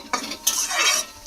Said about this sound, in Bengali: দিয়ে খুব ভালো করে ভেজে নেব, মানে মিশিয়ে নেব আগে